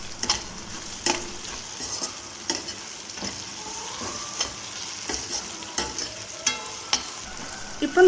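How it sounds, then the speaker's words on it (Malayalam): Brinjal pieces fry in hot oil for a Goan-style aubergine pickle, a steady close sizzle punctuated by regular scraping taps of a spoon stirring the pan. "ആദ്യം തന്നെ എണ്ണയിലേക്ക് നമ്മൾ വഴുതനങ്ങ കഷ്ണങ്ങൾ ചേർത്ത് കൊടുക്കുന്നത്"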